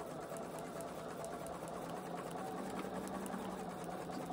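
A sewing machine quilting a dust cover runs steadily at speed, a continuous, even mechanical whir with a fast needle rhythm, close and moderately loud with no voices.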